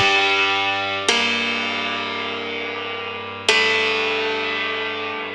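Heavily distorted piano chords through a Devil Lock distortion plugin, two sustained hits that ring out and slowly decay, gritty and saturated with a buzzing edge.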